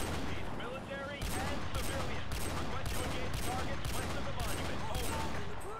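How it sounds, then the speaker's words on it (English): Rapid, sustained gunfire from Call of Duty MW2 Remastered, a loud fusillade with regular bursts of sharp shots repeating about every half second over constant battlefield noise, with voices faintly underneath. "Just gonna spam the shoot button."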